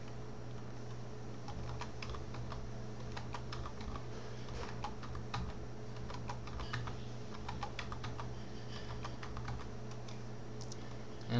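Keys clatter in steady bursts as someone types a password for disk encryption while installing Linux on a computer keyboard, close and fairly quiet over a constant low hum, with no one speaking.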